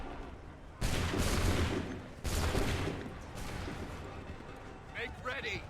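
Musket volleys from ranked soldiers on an Assassin's Creed 3 battlefield, three loud crackling discharges in succession, each fading into rumble, then shouted commands near the end.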